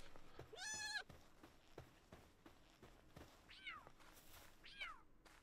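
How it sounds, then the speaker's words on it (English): A cat creature in the video game Palworld meows in a few separate, drawn-out calls over steady game background sound, with a louder mewing cry first and softer ones later. "Oh, and cats as well."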